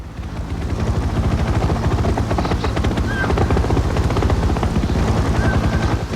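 Helicopter rotor thudding loud and close in a steady rapid chop that builds in the first second and holds at full strength for the rest.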